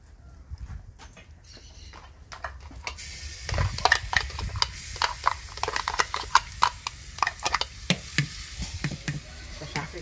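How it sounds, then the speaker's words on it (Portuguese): Rice sizzles and crackles in hot lard, with the scrape of stirring and clatter of a utensil against the pan, close up. "Vou deixar fritando aqui."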